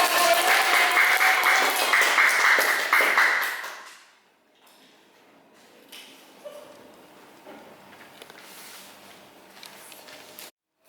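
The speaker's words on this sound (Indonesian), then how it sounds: "ya kita beri tepuk tangan untuk Kak Delia" A class applauding a student, brisk close clapping from a small group for about four seconds that fades out, leaving a quiet room with faint taps and movement.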